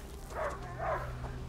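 A dog in the video game A Plague Tale: Innocence gives two quiet, distant barks in quick succession over a low steady ambient hum.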